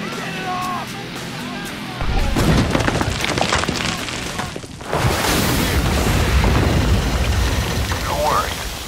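A sticky grenade detonates in the war shooter Spec Ops: The Line, a loud booming blast followed by a long rumbling roar of debris and sandy rush that stays heavy for several seconds.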